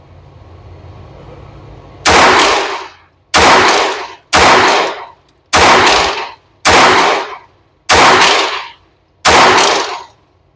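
Seven sharp, loud shots ring out from a Ruger Mark IV 22/45 Lite .22LR pistol at an outdoor range. Each crack comes about a second apart with a short decay, and a low background hum sits under them.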